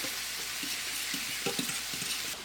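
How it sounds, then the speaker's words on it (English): A fork whisks eggs for scrambled eggs in a bowl, giving quick rhythmic clinks and scrapes under a faint background hiss, close and fairly quiet. "So then we whisk this and make it scrambled eggs."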